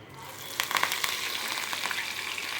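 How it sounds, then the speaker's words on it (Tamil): Fennel, cumin, dried chilli and curry leaves tempering in hot oil, a close, bright, continuous sizzle with crackling pops as the spices fry. "கொஞ்சம் சோம்பு, ஜீரகம், ஒரு காஞ்ச மிளகாய் போட்டுக்கிறேன். அது பொரிஞ்சதும் கருவேப்பிலையை போட்டுக்கிறேன்."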